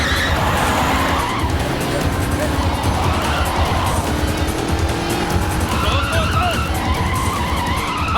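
A car swerving and skidding during a chase, tires squealing repeatedly over a constant engine roar, loud and close, with shouted voices mixed in.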